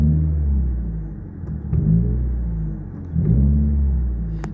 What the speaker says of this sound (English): The only time it does it is if I blip the gas like this, the throttle.